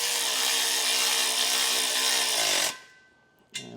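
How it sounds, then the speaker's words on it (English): A power tool drives a 1/2 inch socket to tighten carriage bolts on a B&W Companion 5th wheel trailer hitch install kit, a loud steady whir for over two seconds that winds down and stops, followed by a short burst. "it's going to be a 1/2 inch socket to get these tightened down"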